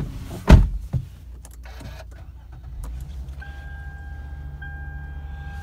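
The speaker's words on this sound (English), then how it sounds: "I'm going to start the engine and then jump inside" A 2011 Lexus IS250 starts with a sharp crank and catches quickly. A faint, steady idle follows, with a soft chime near the end and no talk.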